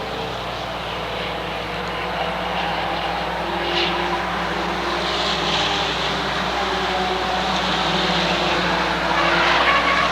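Mini stock race cars roar around an oval speedway track in a steady, continuous engine drone, loud and sustained with slight swells as cars pass.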